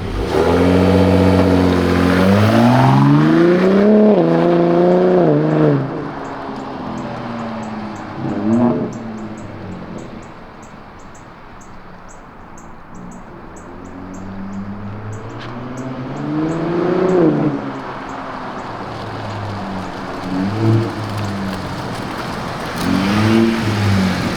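A Gen 3 Ford Raptor 3.5L fitted with an AWE Switch Path exhaust revs hard several times, each loud rising roar falling away, with quieter idle stretches between the bursts.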